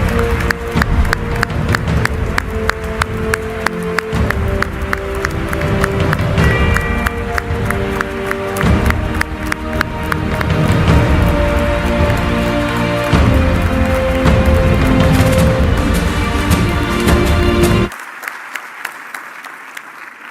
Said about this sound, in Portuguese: uma enorme salva de palmas